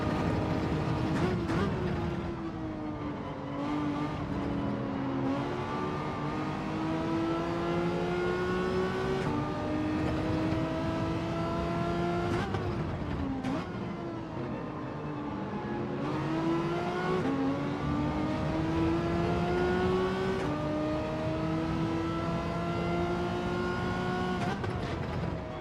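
Race car engines in a Gran Turismo 7 daily race featuring a Renault Megane and a Toyota Supra, steady high-pitched engine drone rising through gears with repeated shift dips, continuous and moderately loud.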